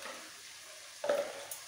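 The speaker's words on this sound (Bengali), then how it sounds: "এবার ভালো করে একটু কষিয়ে নিতে হবে।" Spinach chicken masala with green chilli paste and red chilli powder is stirred in a pan, giving a soft, close sizzle with a brief scraping stir partway through.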